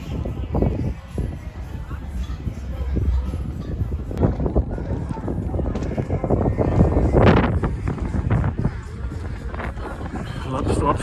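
Wind buffets across a hilltop overlooking a town in Scandinavia, a steady, loud rushing roar against the microphone throughout, with voices speaking underneath.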